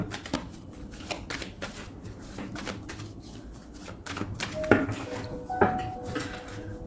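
A deck of tarot cards is cut and handled up close, a run of crisp papery flicks and riffles, followed by a couple of sharper snapping slaps as the halves are set down.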